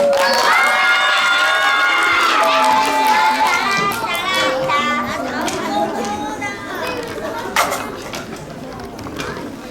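Third-grade students at a school fair greeting the next speaker: a loud crowd of children shouting and cheering, high voices overlapping with chatter, gradually settling and thinning toward the end.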